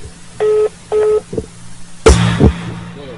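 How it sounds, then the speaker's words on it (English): Telephone beeps heard over a call placed on hold, two even electronic tones in a row, followed by sharper clicks and a rustling thump with faint background hum. "Can you hear it beeping?"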